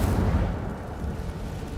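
A deep rumbling whoosh from an Incendio fire spell cast in the video game Hogwarts Legacy, a heavy low roar that holds steady and slowly tapers.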